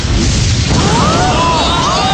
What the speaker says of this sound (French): L'explosion satellite de Ionis est sacrément violente!